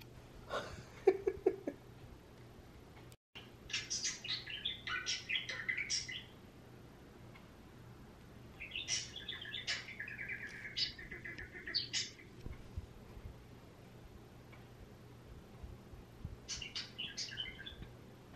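Small pet birds chirp and twitter in several quick bursts with pauses between, close and fairly quiet, with faint sounds in the background.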